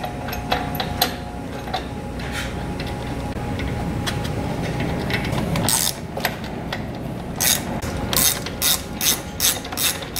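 Ratchet tightening the two bolts that secure a gear motor on an auger shaft, with faint ticking clicks at first and then a run of louder, rhythmic ratchet clicks near the end over a low background hum.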